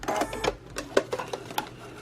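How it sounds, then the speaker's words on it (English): A sewing machine runs in short bursts while stitching along a fabric edge for a baby pacifier clip, its rapid mechanical whirring close and fairly loud, stopping and starting over about two seconds. "once you complete sewing along this edge"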